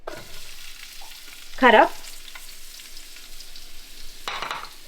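Onions hit a hot pan of roasted spices with a short, loud burst of frying and sizzling, then a quieter crackle continues and swells again near the end; a brief spoken phrase comes early.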